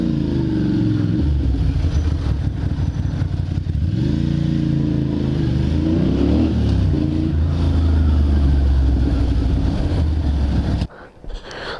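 A Ducati Monster motorcycle being ridden, its engine droning loud and close with rising and falling revs and gear changes, under wind noise, until the sound drops away near the end.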